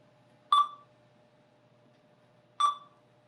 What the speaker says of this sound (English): My laptop just started beeping.